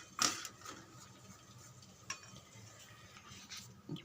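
A spoon stirs finely chopped garlic for a garlic chutney in a bowl, giving faint, sparse scraping clicks and taps against the dish, quiet and close.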